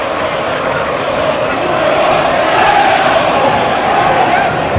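Home crowd at Brentford's football stadium during an FA Cup tie against Wolves, a loud sustained roar of many voices that swells slightly midway, with indistinct chanting mixed in.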